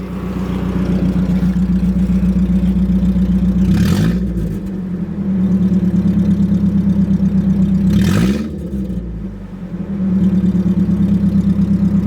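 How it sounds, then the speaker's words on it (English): A loud, rough-running Mercedes-Benz car engine held at a steady rumbling drone, rising in two brief revs before settling back to a ragged idle. "Let me try to rev it and see what it'll do"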